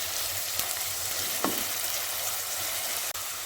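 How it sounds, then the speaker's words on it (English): Finely chopped onions, two medium ones, stir-fry in half a cup of cooking oil, giving a steady close sizzle with a couple of faint utensil scrapes and no voices. "Stir fry these until the color begins to change"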